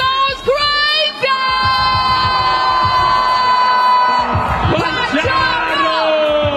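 A crowd cheers and whoops at a Red Bull Shayimoto dance battle final as a dancer takes the stage, loud overlapping shouts and yells with high sustained tones ringing through the noisy, energetic room.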